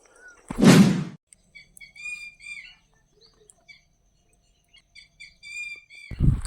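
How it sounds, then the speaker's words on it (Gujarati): Sparrows chirp in a neem tree at dawn in a Gujarati village, giving bright, scattered tweets at a moderate distance, bracketed by two loud thumps at the start and end. "આ લીમડામાંથી ચકલા બોલતા હોય"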